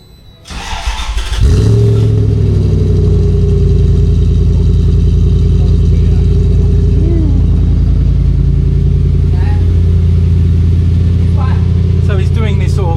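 A car engine starts up and settles into a loud, steady rumble, with a few rises in revs and a voice talking briefly over it.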